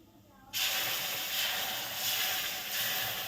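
Milk poured into hot semolina in a pan for semolina barfi: sudden loud hissing sizzle bursting in after a quiet start and holding steady to the end, with no talk.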